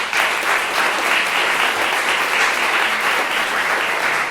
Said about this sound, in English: A round of applause for Ann O'Brien.